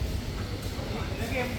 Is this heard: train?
yes